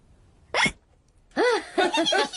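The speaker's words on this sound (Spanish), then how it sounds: "George se ha bebido el zumo muy deprisa y ahora tiene hipo." A cartoon pig hiccups after gulping juice too fast: one sharp squeaky hiccup, a pause, then a burst of several quick rising hiccups close to the listener with no talking.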